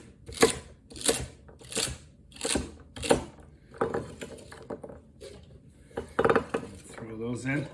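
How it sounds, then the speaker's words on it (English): Knife chopping vegetables roughly on a board for chicken noodle soup in a Dutch oven: five crisp, evenly spaced chops up close, followed by looser scraping and clattering of pieces, with brief talk near the end. "we're just going to give these a rough chop"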